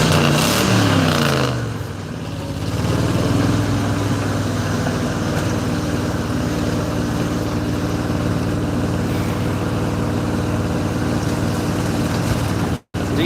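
An old truck with a Ford FE engine idles close by, its exhaust giving a steady, unbroken low drone throughout, with no voices.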